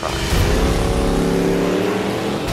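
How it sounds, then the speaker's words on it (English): A 1968 Shelby Fastback Mustang engine revs loudly up close, a deep throaty roar that climbs and holds for a couple of seconds before easing off. "My favorite car is the 68 Shelby Fastback Mustang."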